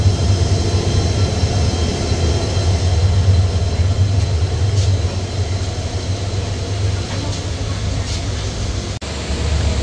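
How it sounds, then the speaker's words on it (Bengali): The Upaban Express, coming in from Sylhet, pulls into a station in Bangladesh with a steady, loud low rumble and rolling wheel noise that carries evenly through the whole stretch, without any talk. "প্রবেশ করছে সিলেট থেকে ছেড়ে আসা উপবন এক্সপ্রেস।"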